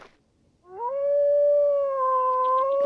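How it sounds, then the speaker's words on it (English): A wolf in a video game lets out one long, sustained howl that rises and then holds steady, clear and fairly close, with a faint click at the very start. "Yep, I hear the wolf."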